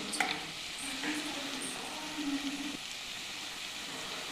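Frying onion with cumin powder and garam masala sizzles steadily in a pan while a spoon stirs it, with a few soft scrapes and no talking.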